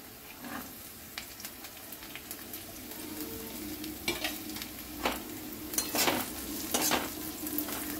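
Chopped capsicum stirred into frying chicken in a pan for chicken fry, a steady sizzle broken by repeated scraping stirs of the spoon, close and moderately loud with no talking.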